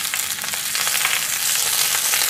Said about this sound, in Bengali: তেল ভালো মতো গরম হয়ে গেলে মাছগুলো দিয়ে দিচ্ছি।